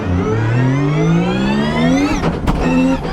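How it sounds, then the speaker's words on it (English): A rally car engine revs hard while accelerating in fourth gear, pitch climbing steadily, then a sharp, loud backfire pops before the engine note returns briefly. "Whoa, big backfire."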